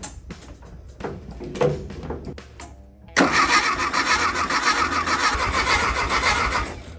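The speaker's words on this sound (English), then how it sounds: "Engine's coming on." The engine of a VW-based Bugatti replica car cranks briefly, then catches and roars into a steady, loud idle after a few seconds of clattering handling noises.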